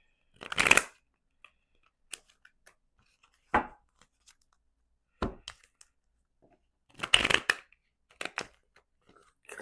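Tarot cards being shuffled in several separate riffling bursts, the longest two crisp and close, with pauses and small handling taps between them and no talk.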